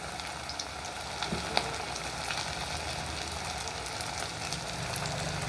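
Chicken kebab pieces frying in deep hot oil over a medium flame, a steady dense sizzle and crackle with scattered pops, close and continuous with no talk.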